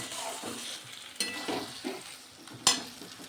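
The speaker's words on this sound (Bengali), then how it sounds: "আর একটু জল দিয়ে আরও ভালো করে কষিয়ে নেব।" Bengali fish-head curry masala sautés in a pan with a little water, hissing and sizzling softly while a spoon scrapes and clinks against the pan in several close, irregular strokes.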